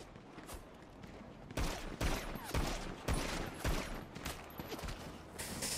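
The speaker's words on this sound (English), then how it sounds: "Oh, cops are shooting me, cops are shooting me" Police open fire in a GTA RP video game, sending out several sharp bursts of rapid gunshots at mid distance. Brief gaps break up the volleys, and no voices are heard.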